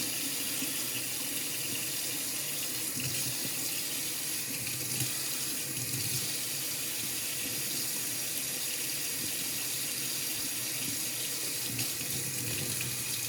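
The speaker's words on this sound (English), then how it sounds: "We have some hot water coming now." Hot water pours steadily from a sink tap into a basin, a constant close hiss and splash that runs unbroken for the whole stretch, with no one talking.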